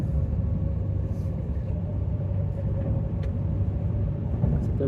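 A train runs along the coast from Rome toward Pisa, heard from inside as a steady low rumble and hum with faint ticks, no talk.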